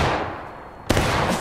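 A musket rifle volley in the Civil War game War of Rights: a brief muffled rumble, then one sudden loud crack of many guns firing together, close and heavy, with a rolling tail.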